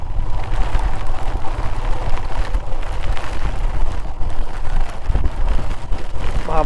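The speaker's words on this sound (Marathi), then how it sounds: "पाऊस खूप आहे" Heavy monsoon rain during a motorcycle ride through Malshej Ghat, a dense continuous roar of rain and wind buffeting the microphone, loud and unbroken with no talk.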